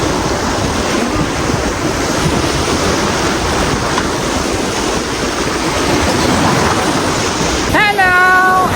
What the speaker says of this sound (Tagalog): Ito yung zigzag na alon. Kasi puro sandbar.